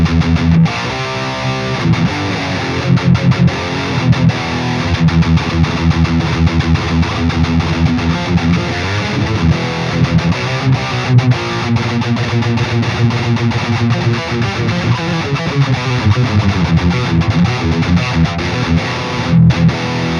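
An electric guitar runs through an MLC SubZero-100 amp plugin with a vintage cabinet and a close dynamic microphone on the edge of the cone, playing heavily distorted chugging riffs and sustained chords that stay loud throughout, with no talking.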